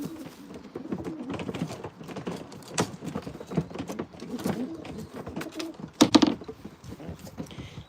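Black pigeons coo softly and repeatedly amid low, continuous rustling, with a brief sharper clatter near the end.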